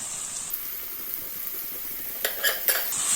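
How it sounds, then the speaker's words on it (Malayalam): Masala with mint leaves stirred in a pot for fried chicken biryani: a faint steady hiss, then a few brief metallic scrapes and clinks of the spoon near the end. "ഇത് നന്നായിട്ടൊന്ന് മിക്സ് ആക്കി കൊടുക്കാം"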